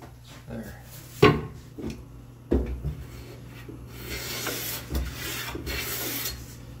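A hand tool set very fine takes thin shavings off wood, short scraping strokes at irregular intervals, a couple of sharper louder passes early, then a softer continuous rasping; quiet and close.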